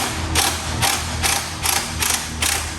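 A wrench ratchets steadily while brake lines come off a Mitsubishi 3000GT, about six quick clicking bursts in a row, close and clear with no talk.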